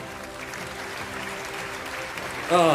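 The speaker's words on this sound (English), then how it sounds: "Big round of applause for you guys" Steady applause from a crowd fills the clip, mid-distance and even, with a voice breaking in right at the end.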